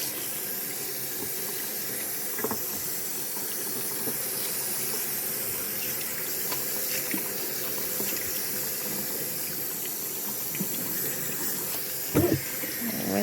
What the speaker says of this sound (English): Rinse it off real good.